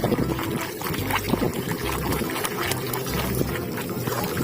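Water pours and splashes steadily while muddy toy vehicles are washed, a continuous close wet rush with small bursts of trickling throughout, no talking.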